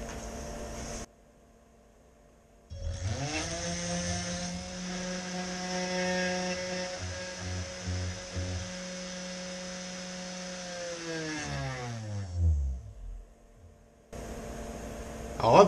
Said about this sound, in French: je vais essayer de plonger et de percer le trou en une fois